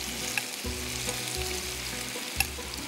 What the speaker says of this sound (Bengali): এখন আমি মাছটা একটু একটু করে ঢেলে দিচ্ছি।